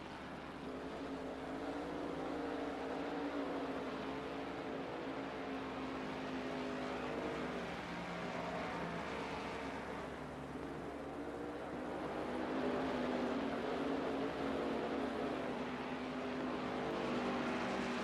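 Race cars, among them a number 16 Camaro, roar around the Watkins Glen circuit in a steady, continuous engine drone that swells slightly toward the end, with no voices over it.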